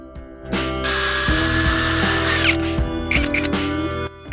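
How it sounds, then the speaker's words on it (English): A power drill whines and grinds as a bigger bit bites into metal to enlarge a hole, with a high squealing tone and a few short catches, close and loud. "When enlarging the hole, the bigger drill bit would bite into the metal."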